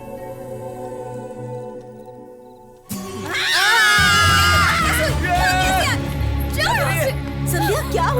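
A woman screams abruptly in a romantic film scene, breaking a quiet stretch with loud, shrill, wavering cries that rise and fall for several seconds over a low background.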